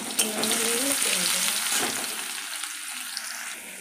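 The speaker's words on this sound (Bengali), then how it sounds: "দেখো তেল গরম হয়ে গেছে, এবার এই রসুনটা দিয়ে দেবো।" Garlic hits hot oil in a home kitchen pan and sizzles loudly at once, a bright crackling hiss that gradually settles and fades over a few seconds.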